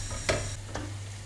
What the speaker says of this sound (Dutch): Want ik ga ze kort toasten in de koekenpan.